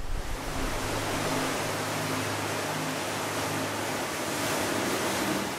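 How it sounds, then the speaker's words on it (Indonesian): Indian Ocean waves pound the mouth of a sea cave in a cliff face, a loud, continuous roar of churning surf with no pause and no voices. "Mulut Goa Nagasari secara konstan dihantam ganasnya ombak samudra"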